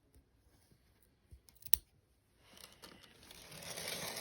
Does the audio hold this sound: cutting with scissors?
yes